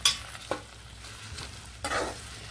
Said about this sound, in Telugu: నేను ఫ్రై చేస్తున్నానండి, కూటు పొడేసి ఫ్రై చేస్తున్నాను.